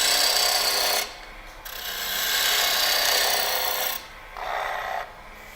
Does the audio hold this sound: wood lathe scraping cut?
yes